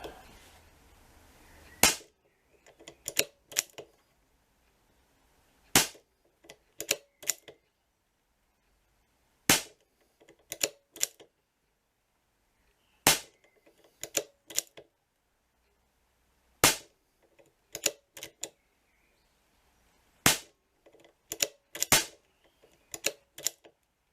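Sharp, crisp shots from an Air Arms S200 air rifle fitted with an Altaros air cylinder during tuning, each crack followed by a few quick mechanical clicks, repeating in spaced bursts against near silence.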